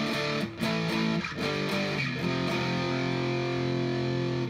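A guitar plays sustained, buzzy distorted chords through a Hologram Microcosm pedal, loud and continuous with a few brief string attacks and no talk.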